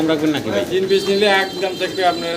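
A racer pigeon, a grizzle racer, coos in short repeated throaty calls close by, with someone talking over it.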